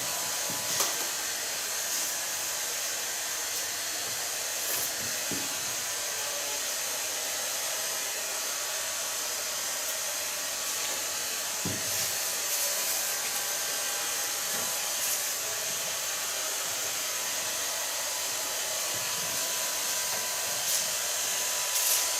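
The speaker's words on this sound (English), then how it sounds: "Now so far blow drying." A hair dryer blows steadily on a person's freshly cut hair in a salon, a loud, continuous airy roar that runs unbroken throughout with only small shifts in intensity.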